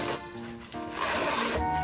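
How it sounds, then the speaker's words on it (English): A zipper being carefully opened on a prize bag, a faint raspy scraping pull in a couple of short strokes, close up and quiet, with no talk. "So here's a zipper. Going to open this very carefully."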